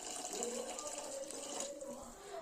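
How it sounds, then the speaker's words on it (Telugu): A glass of water is poured into a cooking pot of tamarind and black-eyed pea curry, a faint, soft trickling splash heard quietly and close throughout the short stretch. "1 గ్లాస్ వాటర్ పోస్తున్నాను నేను"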